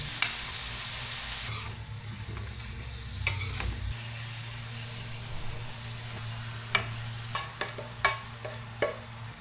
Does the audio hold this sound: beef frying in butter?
yes